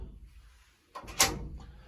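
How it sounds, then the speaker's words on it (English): A heavy 400-pound safe room door, which doubles as a closet door and is fitted with three deadbolts, swings shut with a soft rush and then a solid thud nearby, followed by a faint rattle. "After you get this door shut, you have the deadbolts that can help there."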